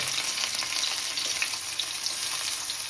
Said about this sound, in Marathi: चला आपला तेल गरम झालेलं आहे सर्वात अगोदर आपण मिरची टाकू लगेचच आपल्याला आता कांदा टाकायचा